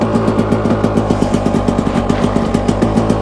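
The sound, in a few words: KTM motorcycle engine kick-started and firing up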